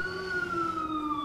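A Ford FDNY ambulance siren in the video game EmergeNYC wails as a steady, slowly falling tone at moderate loudness, with no voices over it.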